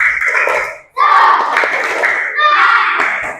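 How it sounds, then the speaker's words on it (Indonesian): A classroom of children performs a rhythmic spirit clap, patterned group clapping mixed with shouted chanting in bursts, loud and close, with a brief pause partway through. "Tepuk semangat."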